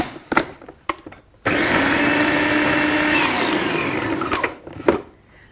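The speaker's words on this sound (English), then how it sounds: "pop it into a food processor with 150 grams of plain flour. And then just briefly blitz to a fine breadcrumb consistency" A food processor blitzes butter with plain flour into fine breadcrumbs for chocolate biscuit dough, a loud steady whir running about three seconds between a few soft clunks and knocks before and after.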